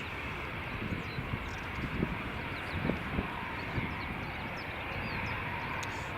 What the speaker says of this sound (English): Next got Air France A319 just taxiing in front of us there